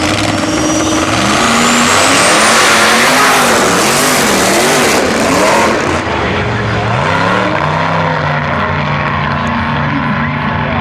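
Heads-up eighth-mile drag racing with turbocharged small block and pro-charged big block Chevy cars, including an 82 Cutlass at about 500 cubic inches, roaring loudly through launches as engines rise and fall in pitch close by.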